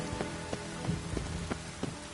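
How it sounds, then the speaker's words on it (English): Steady rain patters on a surface with scattered drops tapping through a continuous soft hiss, faint and fairly close, with no voices. "It's raining, of course."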